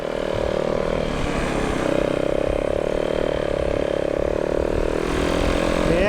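A snow bike engine drones steadily and loudly while riding through a few inches of fresh spring snow, a continuous close motor hum with slight rises in pitch and no pauses.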